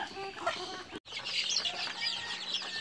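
Desi chickens cluck and chatter on a chicken farm, a busy, continuous mix of calls from several birds at moderate distance with a brief dropout near the start.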